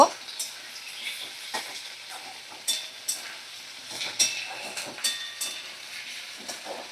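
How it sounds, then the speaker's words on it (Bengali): Vegetables and spices with mutton liver sizzle in a pan over a medium flame, a soft low hiss punctuated by repeated quick scraping stirs and clinks at an uneven rhythm. "তো মিডিয়াম ফ্লেমে রেখে আমি সমস্ত মশলার সবজি ভালো করে নাড়াচাড়া করে নেব"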